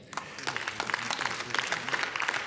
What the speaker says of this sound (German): Und dafür klatscht auch die Linke.